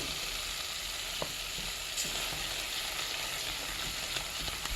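Garlic chilli cooking in a saucepan gives a faint, even sizzle with a few soft stirring knocks, close but quiet, no voices.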